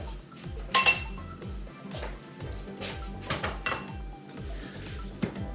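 Utensils scrape and clink against a frying pan as an onion, garlic, paprika and mushroom mixture is added to a Stroganoff, with irregular metallic knocks, faint and close, without talk.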